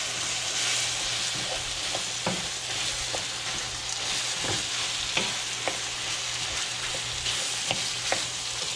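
Onions and shallots stirred into frying meat for a meat pie, a steady sizzle with irregular scraping taps of a utensil against the pan, close and without talk.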